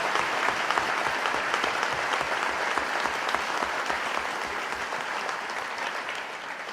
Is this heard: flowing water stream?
no